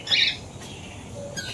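A bird gives a short, loud squawking call early on near a market outing, followed by a fainter chirp toward the end over quiet background noise.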